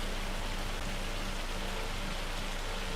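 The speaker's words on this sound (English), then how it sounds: "Oh, that rain is so loud now. It's turned to hail?" Heavy rain and hail in the farming video game Farming Simulator 25, a steady dense hiss of pelting drops that holds unbroken and fairly loud throughout, with no talking.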